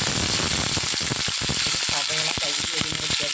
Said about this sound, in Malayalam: കറിവേപ്പിലയും വറ്റൽമുളകൊക്കെ നന്നായിട്ട് മൂത്ത് വരാൻ തുടങ്ങിയിട്ടുണ്ട്.